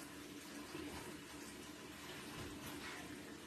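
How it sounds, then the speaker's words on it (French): Boiling liquid cream poured over white chocolate for a mint and chocolate Yule log makes a steady, soft liquid pouring sound with a faint splashing texture that keeps going throughout. "vous allez la verser bouillante sur votre chocolat blanc"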